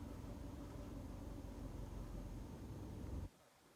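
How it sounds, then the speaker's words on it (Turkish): A car engine runs at the clutch bite point during a driving test, a steady low rumbling drone heard from inside the car, then it cuts off abruptly near the end. "Bakın aracın motor titremesini, motor sesini dinleyin."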